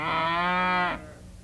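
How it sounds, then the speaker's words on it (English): A single cow gives one long, clear moo lasting about a second, close and loud, then cuts off into quiet background. "When a bunch of cows come together, we call them a herd of cattle."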